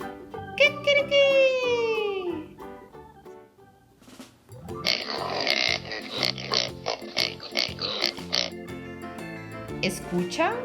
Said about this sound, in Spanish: Nos llama el cerdo.